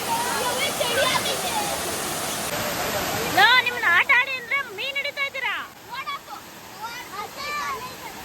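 Abbe Falls waterfall rushing as a steady broadband roar throughout, with people talking and children's voices over it in the second half.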